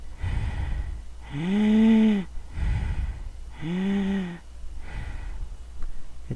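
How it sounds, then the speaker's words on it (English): Heavy, labored breathing repeats in a slow cycle, with two long strained, voiced gasping inhales alternating with rough, noisy exhales, close and loud. "D3824's breathing becomes extraneously labored"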